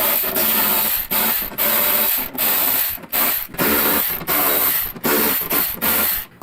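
Screws come out of a motorcycle saddlebag lid on a Softail with a power driver, loud repeated whirring bursts separated by brief pauses, close and without talk.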